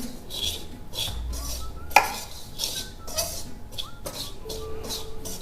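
Ingredients for Multani sohan halwa being stirred together in a pot, with repeated scraping and clinking of a spoon against metal and one sharp knock partway through, fairly close and with no talking.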